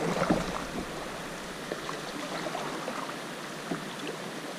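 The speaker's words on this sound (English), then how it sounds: "So we're gonna run these little small sets of rapids, and let's see how it goes." A canoe runs small sets of rapids on the East Wanapitei River, with continuous rushing, splashing water close by and a few knocks and bumps from the hull.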